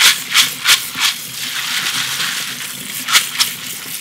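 Dried soybeans are rubbed and rattled under running water, giving a steady wet rush broken by several sharp crunchy scrubbing bursts, close and alone.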